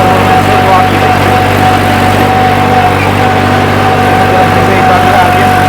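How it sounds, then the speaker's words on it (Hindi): A farm tractor runs in high-range first gear at around 2000 rpm, giving a loud, steady close-up engine drone with a constant hum and no change in pace. "ट्रैक्टर जो चल रहा है ना दोस्तों, वो हाई के पहले गियर में चल रहा है"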